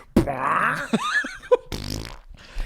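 A voice imitates a drawn-out, sputtering fart, delivered up close and followed by a few short sputters and a breathy burst.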